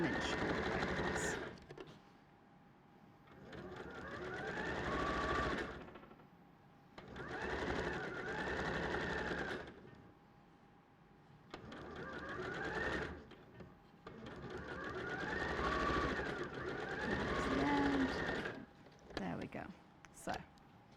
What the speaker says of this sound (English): 2 stitches forward, 2 stitches back, and then continue 1/4 inch all the way across.